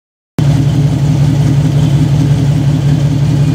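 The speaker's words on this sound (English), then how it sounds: "That's what I love about the modern engines. It just start up, sit there and idle, have good fuel economy for a V8." Modern V8 engine installed in a 1959 Chevrolet Impala idling steadily and close by after a short silence, a continuous low rumbling drone with an even pulse.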